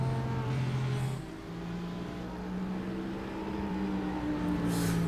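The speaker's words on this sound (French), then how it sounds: "Moi je la kiffe la petite SLS. Avec son bruit de moteur et tout." Mercedes SLS GT3 race car in a racing video game, its engine holding a steady droning note with slight pitch shifts, continuous and fairly loud with no talk.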